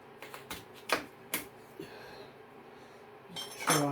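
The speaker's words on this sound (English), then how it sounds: "what I'm going to do now is just cut this potato up." A knife cuts up a potato on a board during chowder prep, giving a few sharp, separate chopping taps at uneven intervals, clear and close, with no talking.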